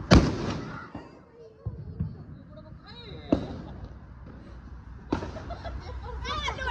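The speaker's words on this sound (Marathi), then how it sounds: "खूप मोठा ब्लास्ट झालेला आहे" Diwali firecrackers go off in three sharp, loud blasts spaced a few seconds apart, each followed by a short rumble, with people talking between the bangs.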